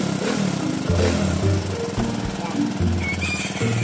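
Suzuki Raider 150 motorcycle engine idling high, with a fault that makes it stall when the handlebars are turned, a loud close rapid chugging idle under a man's speech.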